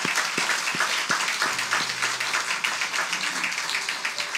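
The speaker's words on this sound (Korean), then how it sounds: "하나님께 감사의 박수 드리겠습니다" A church congregation applauding in thanks to God at a pastor's ordination service, many hands clapping in a continuous, even patter, with a few sharper nearby claps standing out.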